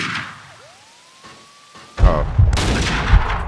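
Video game gunfire erupts after a near-silent stretch with a thin rising whistle, then dense bursts of shots crackle loudly for the last second and a half.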